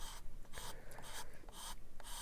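Repeated rasping strokes of a paint-clogged sanding stick on a 1/48 scale plastic model kit, steady back-and-forth rhythm, close and fairly quiet, with no voices.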